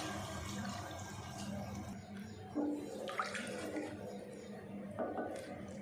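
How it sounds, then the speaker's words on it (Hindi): A gram flour and lassi batter for Rajasthani kadhi pours into a cooking pan of sizzling masala with a steady liquid sloshing and gurgling, close and moderate, with a few brief splashes. "अब इसमें डाल देंगे लस्सी, जो हमने बेसन और लस्सी का घोल बना के रखा है"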